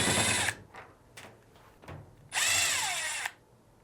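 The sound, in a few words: power drill removing dryer top cover screws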